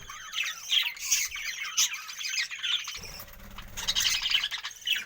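A flock of budgerigar parakeets in a breeding aviary squawks and chirps in a busy, overlapping chatter of sharp calls, close and fairly loud, with no talking.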